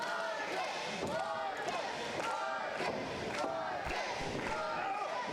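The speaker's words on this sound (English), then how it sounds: "Crowd loves Marcus Johnston." A pro wrestling crowd at a Defiant event cheers and shouts continuously for Marcus Johnson during a match, with the noise holding steady and occasional thuds from the ring cutting through the crowd.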